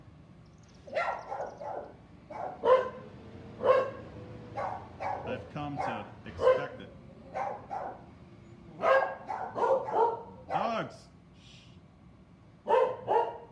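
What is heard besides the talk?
dogs barking in a backyard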